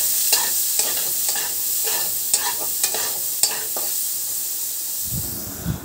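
Food fries in a pan on a home stove, a steady bright sizzle broken by several short scraping stirs, with a low thump near the end.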